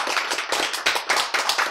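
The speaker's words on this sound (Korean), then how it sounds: "박수." A group in a Korean health lecture claps together in quick, loud bursts, a rhythmic series of close hand claps with short gaps, and no talking over them.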